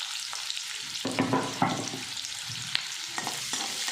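Chopped onion frying in hot oil with cumin and mustard seeds for a cauliflower sabzi, a close sizzle with scraping stirs and occasional sharp pops and taps of the spoon against the pan.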